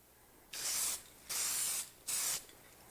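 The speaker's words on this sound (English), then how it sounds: "Throwing on a coat of lacquer" Three steady bursts of aerosol rattle-can lacquer sprayed onto a small wooden woodworking project, each hiss lasting about half a second, close and fairly quiet with brief pauses between.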